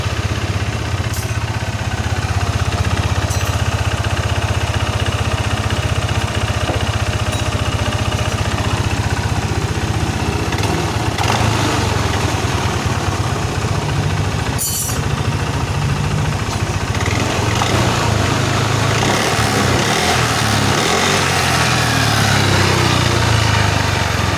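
A Yamaha NMAX scooter engine runs continuously at a high, steady idle, a loud buzzing drone close by with a brief click partway through.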